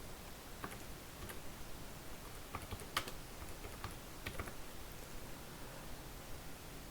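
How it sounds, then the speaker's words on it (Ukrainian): Soft, quick clicks of a computer keyboard as Python code is typed, irregular bursts of keystrokes over a faint steady hiss, quiet and close with no voice. "Пишемо команду print. Відкриваємо дужки, відкриваємо лапки і пишемо число парне."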